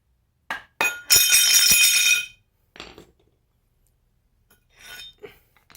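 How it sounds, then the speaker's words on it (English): Metal clinks and a ringing scrape as the bottom end bell is pulled off a legacy Casablanca ceiling fan motor, with a few sharp knocks and a longer bright rattle followed by quieter taps. "I'm going to remove the bottom end bell."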